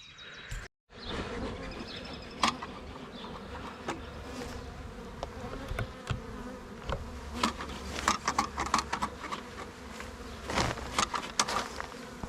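Agitated honey bees buzz steadily around an opened hive during an inspection of a new package colony a week after installation, a dense continuous hum with scattered sharper passes and taps close by.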